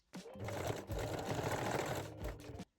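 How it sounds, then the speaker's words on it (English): A sewing machine runs a straight stitch to fix the end of a bra strap threaded through a ring, its steady motor whirr and needle clatter loud and close for a few seconds before stopping. "thread one end of the strap through the ring and sew it in a place with the straight stitch"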